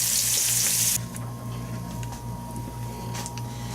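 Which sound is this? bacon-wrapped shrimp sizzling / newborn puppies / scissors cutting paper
bacon-wrapped shrimp sizzling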